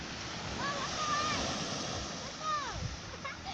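Sea waves washing onto the beach at Ujong Blang, a steady broad surf roar that swells and recedes under wind buffeting, with voices talking close by.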